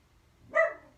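Mr. Bentley, a pet dog, lets out a single short bark, close and clear against a quiet room.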